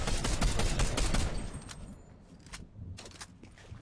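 Rapid video game gunfire rattles in dense bursts for the first second and a half, then drops to a few scattered distant shots and quieter background ambience.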